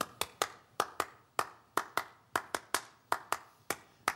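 Sharp hand claps in a repeating rhythm dividing a twelve-beat cycle: about twenty crisp, close claps in uneven groupings, with no voices.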